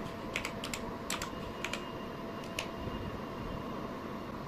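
Someone types a short folder name on a computer keyboard, a quick burst of crisp key clicks in small clusters over a steady fan hum, close and otherwise quiet.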